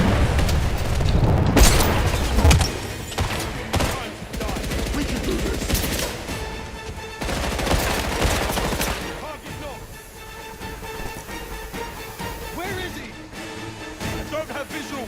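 Gunfire and booming blasts in the video game 007 First Light, dense bursts and explosions through the first half, thinning to scattered shots against background game sound, with voices talking over the action.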